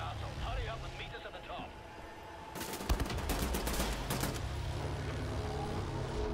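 Rapid gunfire bursts in the Wolfenstein video game, a clustered volley of sharp shots midway through, set against steady game ambience with a voice heard earlier.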